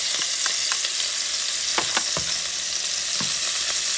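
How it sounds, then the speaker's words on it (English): Sofrito with peppers and onions sizzles in a pot for a Puerto Rican shrimp and pigeon pea rice stew, a continuous close frying hiss broken by several sharp stirring clicks and scrapes, with no voices. "I'm going to add the sofrito."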